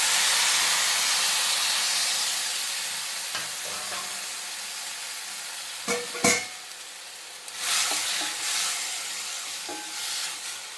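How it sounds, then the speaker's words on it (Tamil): Tomatoes sautéing in hot ghee for a wedding-style sweet tomato side dish, a steady sizzle that fades slightly, broken by several sharp spatula scrapes and stirring knocks near the pan. "இதே நெய்யில் நம்ம அந்த தக்காளியை போட்டு வதக்கிக்கலாம்"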